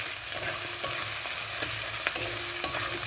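Chicken pieces frying in a pan with salt and sugar, a steady close sizzle with light occasional stirring clicks and scrapes, no voices.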